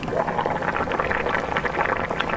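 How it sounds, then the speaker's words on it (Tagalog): Steady bubbling and simmering of mung bean soup with chicken and dried shrimp boiling in a pot, continuous and fairly close, with no talking. "So ito, kumukulo na siya."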